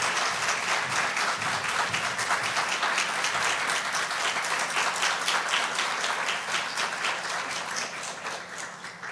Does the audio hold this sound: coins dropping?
no